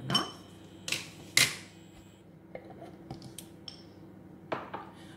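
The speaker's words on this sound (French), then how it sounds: "je mélange le tout" Béchamel mixture is stirred in a pan, with a few sharp metallic clinks and scrapes of a utensil against the pan spaced out over quiet moments, close and fairly soft.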